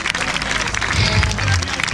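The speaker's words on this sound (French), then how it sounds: "Je veux voir toutes ces mains applaudir l'organisation à moins de 2 minutes du départ" A crowd of runners at La Boucle Infernale race clapping for the organisers shortly before the start, a dense, loud, continuous burst of applause.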